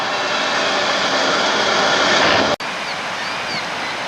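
Rapids of the Niagara River rush as a loud, steady broadband roar, broken by one sharp cut partway through before the churning water continues unchanged, with no voices.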